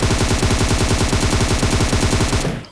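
Fast, evenly spaced automatic gunfire rattles in a single sustained burst during a battle royale match, loud and close before cutting off abruptly.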